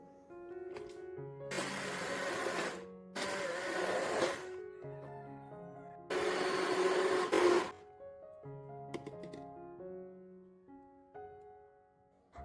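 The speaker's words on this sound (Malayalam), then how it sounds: "ഒരു ബ്ലെൻഡർ ഉണ്ടെങ്കിൽ അതുകൊണ്ട് ഒന്ന് അടിച്ചെടുത്താൽ മതി" A hand blender purees tomatoes in three short bursts with pauses between, close and moderately loud, alternating with quieter mechanical tones.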